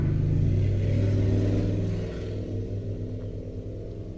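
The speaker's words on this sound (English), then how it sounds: "The motorbikes." Motorbikes passing outside make a deep, droning engine rumble that is loudest at first and then drops to a lower, steadier hum after about two seconds, with no one talking.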